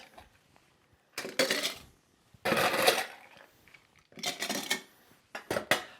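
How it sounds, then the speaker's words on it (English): Ice cubes clatter into a glass while a harvest apple ginger spritz is built, in three loud bursts of rattling, clinking cubes with short quiet gaps between them. "Now we're going to top a little bit more ice in there."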